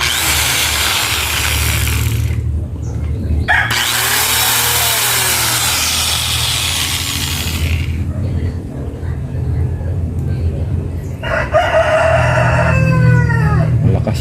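A Mitsushi 1000W angle grinder motor spinning up and running, a loud steady whine that starts and stops across the stretch, with a rooster crowing nearby and someone talking in between.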